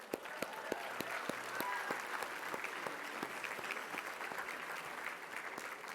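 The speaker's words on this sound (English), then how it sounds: "A round of applause for Clay." Applause rises for Clay Hebert at the Travelcon 2019 conference, a dense, steady crowd of clapping hands that holds its level throughout, with a few sharper individual claps standing out near the front.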